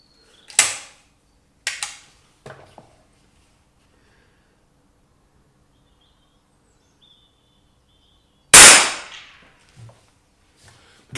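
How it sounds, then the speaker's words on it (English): Sharp mechanical clacks and creaks as the action of a Pedersoli Black Widow gun is opened and the firing pin forced back, a few short isolated clicks followed by a louder snap near the end, with silence between. "When you open up the action, the firing pin is forced back."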